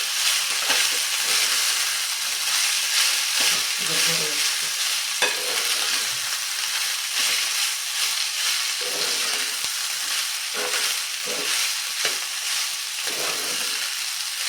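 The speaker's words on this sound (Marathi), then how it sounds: "शिजवून घेतलेला भात आहे तो घालायचा मिक्स करायचं" Cooked rice is stirred into a hot tempering in a pan for traditional lemon rice (chitranna), with a continuous close sizzle and repeated scraping stir strokes, no voices.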